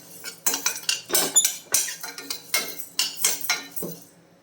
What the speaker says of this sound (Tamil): உளுந்து வந்து சேர்த்துருக்குறேன் இதை வறுத்து எடுத்துடலாம்